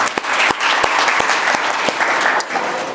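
A church congregation at a Sunday service in Sahiwal, Pakistan, claps loudly together, a full crowd of hands with sharp, roughly regular accents, close and continuous, with no voices heard.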